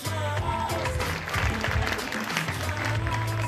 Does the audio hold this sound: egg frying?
no